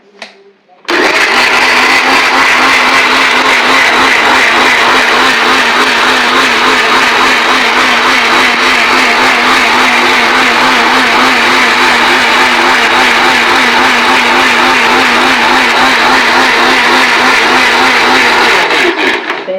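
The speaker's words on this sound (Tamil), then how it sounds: "இப்போ நம்ம அரைச்சி விடுவோம்." An electric mixer grinder whirs loudly as it grinds tomato chutney, starting after a brief pause and holding a steady, close, roaring motor drone to the end.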